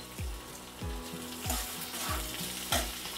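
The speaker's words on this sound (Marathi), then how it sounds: "ह्याच्यामध्ये 1 मिनिटभर भाजायचा चांगला" Poha ingredients such as chopped tomato roasting in a pan on a fast gas flame, a continuous sizzle with rhythmic spatula scrapes and knocks about every half second.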